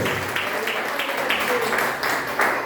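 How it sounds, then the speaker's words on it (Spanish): A church congregation applauds at a service, a steady wash of many hands clapping close and fairly loud for a few seconds with no break. "Cuando le damos un aplauso al Padre, al Hijo y al Espíritu Santo"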